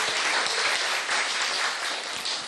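Audience applause in a lecture hall for a young woman from Shijiazhuang, Hebei, China, after she introduces herself; dense, steady clapping from many hands at close range, continuing evenly with no talking over it.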